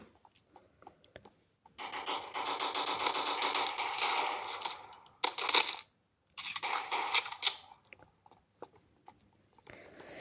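Sustained bursts of rapid Desert Eagle gunfire in a video game, loud and continuous for several seconds, with brief gaps between volleys and no talking.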